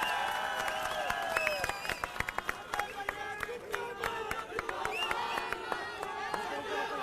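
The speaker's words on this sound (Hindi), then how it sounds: "संजय सिंह की जोरदार तालियों से स्वागत करिए" Applause and cheering from a crowd at an Aam Aadmi Party political rally, steady clapping with scattered shouts throughout, fairly distant and continuous.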